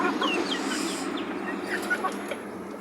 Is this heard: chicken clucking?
yes